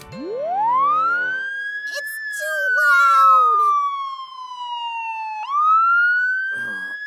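A police car siren from a children's cartoon sweeps up in a long rising wail, holds, slides down, then jumps back up, loud and close, with brief animated voices and effects breaking in partway.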